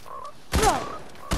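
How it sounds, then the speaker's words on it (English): A frog croaks in the Fortnite video game, one short raspy burst heard clearly and fairly close, bracketed by a brief second noise at the end against a low game background. "No, it's a frog."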